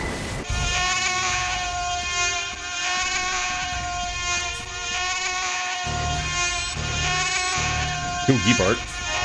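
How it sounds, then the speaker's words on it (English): Bees in an active beehive inside a game make a dense, continuous droning buzz that fills the space, loud and close, with a brief warbling swell near the end. "You can really hear the bees."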